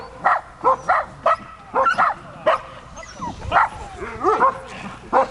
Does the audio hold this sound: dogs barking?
yes